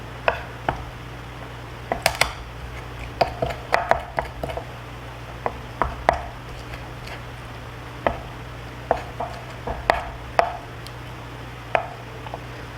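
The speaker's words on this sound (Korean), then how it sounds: "그리고 혀는 반으로 자르고 막, 피, 내장, 지저분한 부분 뒷날로 다 이렇게 긁어 사용해 주세요." A kitchen knife chops and scrapes pufferfish, halving the tongue and scraping away membrane, blood and innards with the back of the blade, in a series of sharp, close taps and scrapes at an irregular rhythm over a steady low hum.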